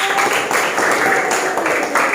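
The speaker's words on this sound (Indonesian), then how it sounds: "Oke, tepuk tangan buat kelompok 1." Applause from a class of students for the first group after its presentation in a Hindu religious education lesson. The clapping is dense, steady and close, with light chatter underneath.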